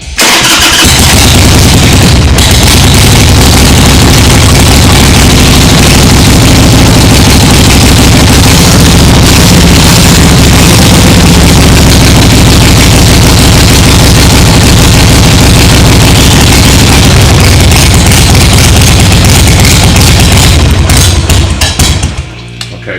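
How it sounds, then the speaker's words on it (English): A cold Evo motorcycle engine cranks and catches, then runs loudly and steadily at a rough idle, close by, for about twenty seconds before cutting off. "with getting this motorcycle going, we want to verify that it starts and runs"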